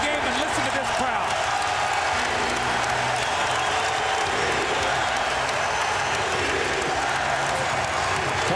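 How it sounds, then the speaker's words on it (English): A packed basketball arena crowd roars and cheers continuously during a Sixers versus Lakers Finals game, loud and sustained, with a commentator talking over the noise. "listen to this crowd"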